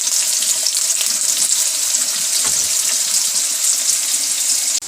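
Sliced onions sizzle steadily in a large quantity of oil over low heat for beef degi korma, a loud, continuous bright hiss with faint stirring, with no talking.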